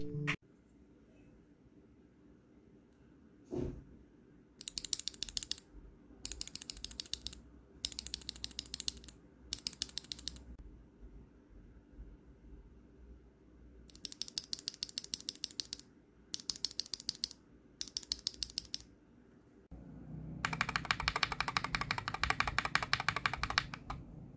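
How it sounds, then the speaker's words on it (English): Typing on a mechanical keyboard with Tealios V2 and Fecker Milky Green switches, in several separate bursts of rapid close clacking with short quiet gaps, the last burst denser and heavier. "now, for the sound test between the Tealios V2 and the Fecker Milky Greens."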